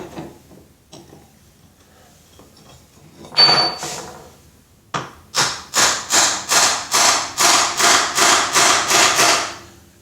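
A bearing is driven into place with a hammer on Loctite sleeve mount during transmission work: a couple of isolated knocks, then a steady run of about ten loud, evenly spaced metallic blows close by.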